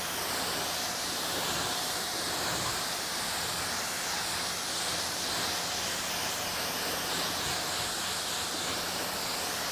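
A water spray rinses a car after a detailing product has been applied, a constant close hiss of water with no breaks or voices.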